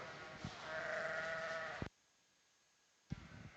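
Dorset ewe lambs bleat at a sheep show: one long, wavering bleat lasting over a second, then a short silence and the start of another bleat.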